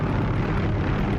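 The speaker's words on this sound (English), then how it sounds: "Extremely stable helicopter." Steady, loud helicopter rotor and engine drone from the DCS flight simulator game, a dense continuous roar with no pauses and no speech.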